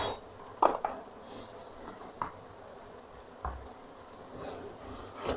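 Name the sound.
mixing spices into palak dal in a pot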